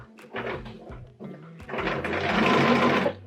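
A sewing machine quilting along a seam, with a couple of short stitching bursts followed by a longer steady whirring run of needle clatter, close and moderately loud, with no talking.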